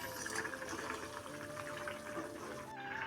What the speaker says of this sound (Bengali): ডিমের ঝোল এখন ফুটছে